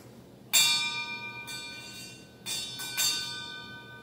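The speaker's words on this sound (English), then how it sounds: "Two bells." A bell rings out at a VFW Post Memorial Day remembrance ceremony, struck several times with clear, resonant tones that hang and slowly decay between strikes in a quiet setting.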